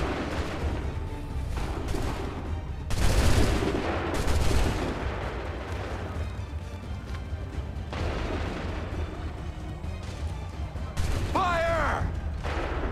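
Musket volleys in the video game Assassin's Creed 3 boom out in two heavy bursts over a steady, loud battlefield rumble, followed by more scattered shots and a shouted voice.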